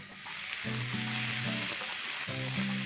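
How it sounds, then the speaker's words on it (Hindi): Steady sizzling of ginger garlic paste frying in a hot pan, a continuous crackle with faint stirring scrapes throughout, close and fairly loud. "इसे अच्छे से चला लेंगे और अदरक लहसुन को भून लेंगे।"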